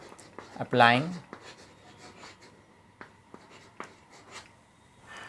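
A pen writes out a matrix row-operation solution by hand on paper, giving soft scratchy strokes at close range with brief pauses, under someone speaking quietly in Hindi.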